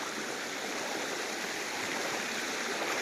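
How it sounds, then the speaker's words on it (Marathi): Rain-swollen river water rushing steadily in a Konkan village stream, a broad continuous hiss and gurgle that stays loud and even throughout, with no voices. "आमच्या नदीचं पाणी बघा"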